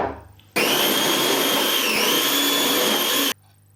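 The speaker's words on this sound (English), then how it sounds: "we put the grated plate on the food processor and grate them" A food processor fitted with a grating plate starts abruptly with a loud, steady motor whine, grating mushrooms at high speed for about three seconds before cutting off.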